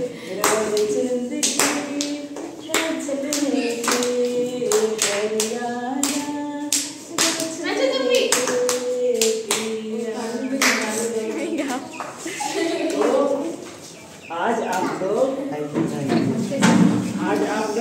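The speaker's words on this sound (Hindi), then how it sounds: "ताली तो बजा दो" A family gathering claps hands at a celebration, a series of sharp, uneven claps that come in bursts throughout with a brief lull midway, mixed with voices talking and laughing.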